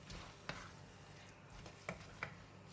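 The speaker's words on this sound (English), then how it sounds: "Give it a stir until the pork belly is well coated with the curry paste." Marinated pork belly being stirred into curry paste in a pan for a tapioca leaves coconut curry, with a quiet sizzle and a few soft scraping stir knocks.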